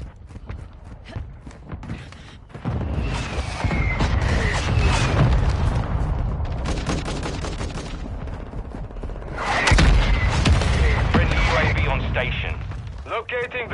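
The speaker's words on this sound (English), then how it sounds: "Our mortar strike is inbound." Mortar strike explosions in Call of Duty MW2 on PS5, a series of loud, rumbling booms and blasts in two main waves, with gunfire crackling throughout and voices talking over the battle.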